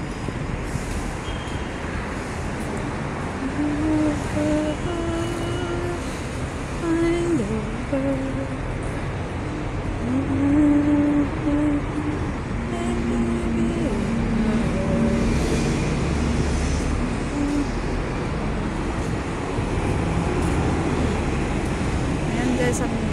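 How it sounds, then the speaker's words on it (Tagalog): Busy city street beside a bus stop, with cars and larger vehicles passing steadily at close range, forming a continuous rumbling traffic bed beneath someone talking. "ang daming sasakyan dito"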